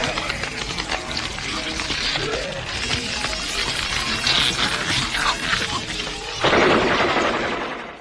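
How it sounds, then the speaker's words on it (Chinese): Gunfire erupts inside a house in a sci-fi horror film, a dense crackle of shots amid loud, chaotic action, ending with a sharp, heavy burst near the close. "听到屋里传出枪声的警察立马掏出手枪，并让苏西躲到自己身后。"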